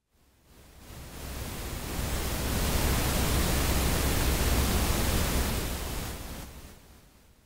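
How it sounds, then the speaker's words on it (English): Pink, white and red noise from VCV Rack modular oscillators patched into Bitwig Studio: a dense, steady broadband hiss that swells in, holds loud and even, then fades away, with no voices. "We'll connect the noise signal to channel 1, pink noise to channel 2, red noise to channel 3,"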